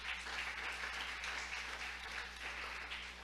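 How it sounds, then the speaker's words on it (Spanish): A church congregation applauding, a steady, even wash of clapping heard at moderate distance with no pauses, filling the hall. "¿Cuántos le aplauden al Señor, hermano?"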